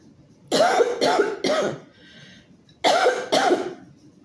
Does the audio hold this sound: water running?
no